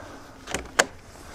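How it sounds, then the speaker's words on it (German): A back door in a house in Hungary is opened, with a soft handle or latch sound followed by a sharper click, close and brief in a quiet room. "Ich mache zunächst hier hinten diese Tür auf."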